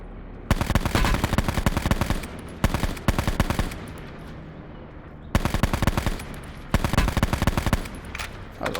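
Bursts of automatic gunfire in the Call of Duty Black Ops 4 Blackout video game, loud rapid strings of shots broken by short pauses.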